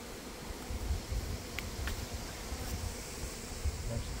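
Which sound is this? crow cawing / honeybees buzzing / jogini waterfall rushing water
honeybees buzzing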